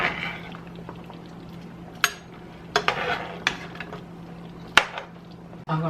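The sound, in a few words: oxtails being flipped over in a cooking pot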